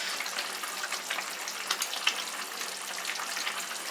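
Tempering (tarka) poured into a Kashmiri chicken goshtaba gravy, giving a steady, close broadband sizzle and bubbling hiss with small crackling spikes throughout, no voices.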